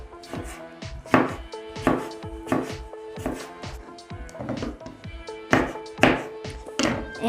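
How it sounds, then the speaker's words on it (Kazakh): A knife chopping vegetables into cubes for a rainbow salad, sharp rhythmic thuds on a cutting board at an uneven pace, close and clear, with no talking. "Оны да төрт бұрышты қылып тураймыз"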